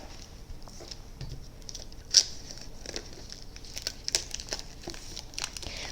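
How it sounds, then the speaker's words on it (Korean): Plastic wrapping torn open on a John Berger book, soft close crinkling and rustling with a few sharper tearing snaps, no talking. "이번 책도 이렇게 비닐로 따로 포장이 되어 있습니다. 한번 뜯어보도록 할게요."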